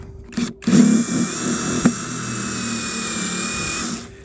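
A power driver runs steadily into an oak board, with a sustained mechanical whine and a lower grinding churn, a brief sharp knock near the two-second mark, and no speech.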